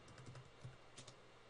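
A command is typed on a computer keyboard at a Linux terminal, a few soft, faint keystrokes set against steady background hiss, with no talking.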